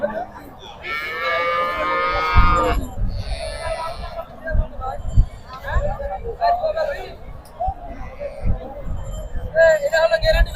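In the cow-and-calf section of a cattle market, a loud cow moo rings out early, followed by more mooing amid market hubbub, snorts and people talking nearby.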